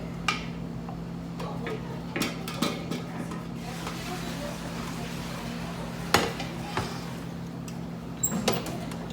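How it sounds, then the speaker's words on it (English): Cooked choux pastry dough is moved from a pot into a mixing bowl fitted with a paddle, giving a few scattered utensil and pot clanks over a steady low electrical hum. "I'm going to take this off and put it into my mixing bowl with a paddle"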